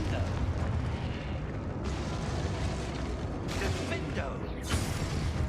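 In a video game, the Confringo blasting spell goes off as heavy, roaring explosions. Several booming bursts overlap one another under a dense rumble, with a voice faintly present.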